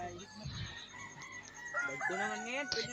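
A rooster crows with a drawn-out, rising call near the end, over a noisy farmyard background with some clucking and chatter.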